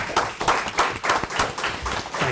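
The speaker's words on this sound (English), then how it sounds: "I like to applaud him myself" Scattered hand clapping from a township council meeting audience honoring a resident, a few people clapping unevenly and fairly close, brief and thin rather than a full ovation.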